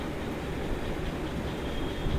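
A metro train rumbling along on rails, a low continuous roar with rhythmic wheel clatter and a faint high squeal, heard from inside a crowded carriage.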